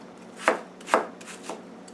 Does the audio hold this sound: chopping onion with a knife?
yes